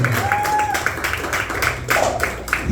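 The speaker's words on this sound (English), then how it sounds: "Clap it up for Leon the comedian." Audience applause and clapping at a stand-up comedy show, a steady wash of hand claps filling the room right after the comedian introduces himself, with some crowd noise mixed in.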